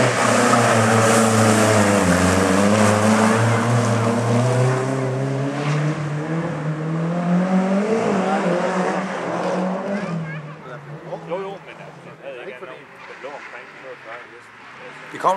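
Rally cars race past at a club rally in Kalundborg, their engines rising in a loud, droning approach and falling away. Someone talks over the passing cars.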